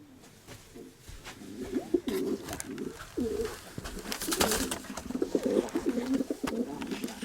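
Pigeons cooing inside a loft, soft repeated throaty coos in short bursts, close and fairly quiet, with faint rustling and no talking.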